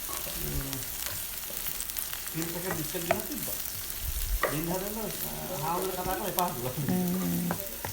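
Okra and green chillies sizzle steadily in hot oil as they are stirred, a close, constant frying hiss with tonal, voice-like sounds wavering above it.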